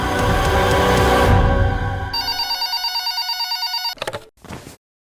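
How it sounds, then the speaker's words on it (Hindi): A telephone bell rings in a fast, steady trill for a couple of seconds after a burst of loud music, then cuts off into short fragments and silence. "आदित्य को फोन लगाता हूं।"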